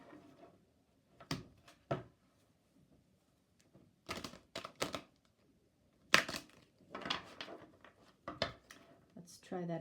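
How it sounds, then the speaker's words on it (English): Crisp riffling and slapping of tarot and oracle cards being shuffled in bursts, with quiet pauses between, fairly close and moderately loud. "That was a terrible shuffle."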